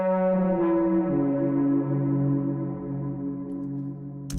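An animation sound effect with the Raum and All Pass Phase effects removed: a drier sustained tonal drone that holds steady, dips slightly partway through, and ends on a sharp click.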